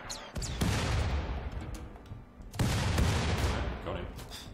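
Gunfire in the colony video game Rimworld, two bursts of sharp overlapping shots each trailing off into a rumbling decay, fairly close and loud, with a voice talking faintly beneath.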